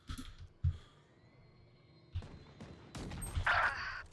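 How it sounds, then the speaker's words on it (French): Pump shotgun blasts from Valorant gameplay sound as a few short, sharp shots spaced seconds apart, with a denser burst of gunfire near the end over a quiet game background. "J'ai un putain de fusil à pompe, j'ai tout mis à côté."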